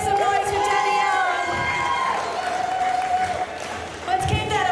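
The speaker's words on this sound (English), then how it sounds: "Let's make some noise for Danielle" A crowd at a strongman and strongwoman event cheers, shouts and claps loudly for a competitor, voices yelling and whooping over scattered applause.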